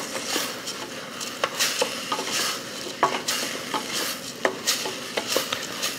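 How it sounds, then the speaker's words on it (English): Carnaroli rice being stirred in hot oil in a pan for a holiday dish, with a steady scraping stir, soft sizzle, and repeated light clinks of the utensil against the pan. No talking. "You want to stir and get it coated with the oil."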